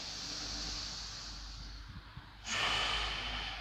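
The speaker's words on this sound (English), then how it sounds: "Big, deep breath in." A single deep inhale during a seated yoga practice, drawn slowly through the nose with a soft, close breathy hiss that swells toward the end.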